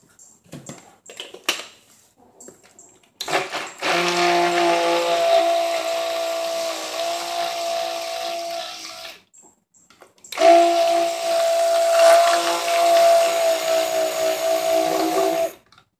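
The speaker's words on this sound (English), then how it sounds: "use my stick blender to see how white I can get this." A stick blender mixes pumpkin creme brulee cold process soap batter, whirring in two long, steady, loud bursts separated by a short pause.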